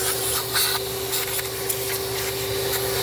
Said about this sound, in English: it's time to hit it with the vacuum.